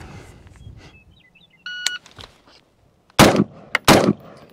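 Two loud, sharp rifle shots fired from either a Sig SPEAR LT or a Geissele Super Duty ring out close together near the end, after a short electronic beep from a shot timer and a few quieter clicks.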